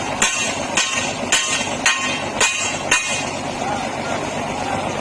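Six sharp metallic strikes of a small spade chipping into a rock layer while digging, spaced roughly half a second apart, then stopping, with quieter background noise continuing.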